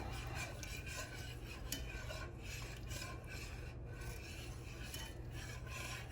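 Gravy for chicken fried steak stirred in a pan, a steady scraping and rasping of a utensil against the pan bottom repeating in an even rhythm, close and moderately quiet with a low hum behind.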